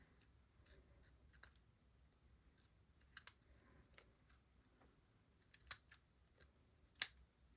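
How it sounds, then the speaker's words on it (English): Scissors trim washi tape on small wooden earring pieces, a series of faint, sharp snips at irregular intervals over a quiet background, with a couple of crisper cuts near the end. "Now I'm going to trim up these sections here."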